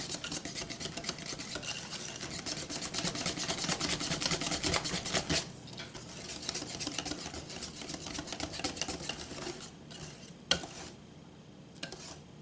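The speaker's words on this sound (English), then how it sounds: "I'm just going to stir this batter around in here until there isn't a whole bunch of lumps in it." A spoon stirs cobbler batter in a bowl with a steady rapid scraping and rubbing, close and fairly quiet, pausing briefly midway before continuing more sparsely.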